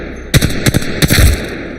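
Gunfire in the video game Apex Legends aimed at training targets, heard as three loud, close bursts of rapid automatic fire in under two seconds, without talk.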